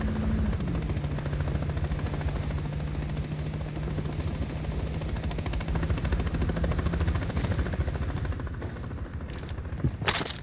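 Helicopter rotors in Call of Duty: Modern Warfare 3 campaign gameplay, a loud steady thrumming drone that holds throughout, with a few sharp cracks near the end and no talk.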